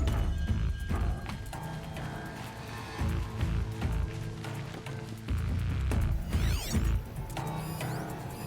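Robot horse mount in Horizon Zero Dawn clanking along with mechanical clip-clop footfalls, whirring servos and ratcheting sounds, steady hoofbeats over game ambience and music.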